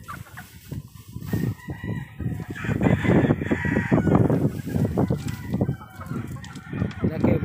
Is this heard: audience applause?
no